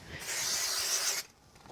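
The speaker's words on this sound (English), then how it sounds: "So just do a quick spray on the back." One quick, continuous hiss from an aerosol adhesive spray can onto the back of a card, about a second long, close by, followed by quiet.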